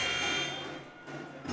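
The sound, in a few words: basketball game buzzer for the fourth quarter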